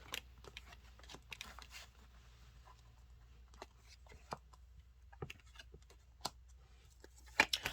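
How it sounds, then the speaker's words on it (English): Cards being shuffled by hand during a tarot reading, soft scattered clicks and flicks, irregular and quiet, close by with no talk. "I'm going to keep shuffling."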